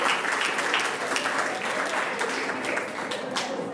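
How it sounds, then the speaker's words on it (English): Round of applause from contestants and audience at a quiz challenge grand final, brisk crowded clapping held at a fairly even level and easing slightly near the end. "Round of applause."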